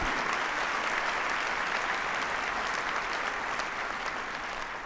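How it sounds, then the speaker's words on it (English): Sustained audience applause in a civic hall at a city's State of the City address, steady and dense throughout, honoring a woman seated with the mayor's family. "Amy, this applause is our acknowledgement of what you've been through"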